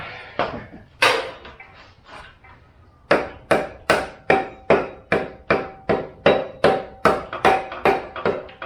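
A Jeep WJ Grand Cherokee chromoly flywheel part being hammered into a tight fit, a few irregular metallic blows, a short pause, then a steady run of about fourteen sharp, close strikes in even rhythm.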